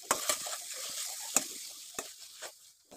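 Spices with green chilli, ginger and garlic stirred in a frying pan for a matar chhola dish, soft steady sizzle under a few sharp scraping clinks of a spoon against the pan, quiet and close.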